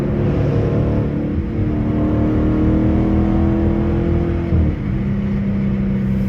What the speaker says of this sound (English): Roll back up the window a little bit so we can hear the car a little more.